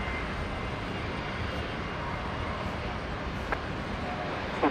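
Qantas Boeing 737 just pushed back and beginning to taxi at Brisbane airport, a steady broadband jet engine roar held at a constant level throughout, with a brief faint click near the end.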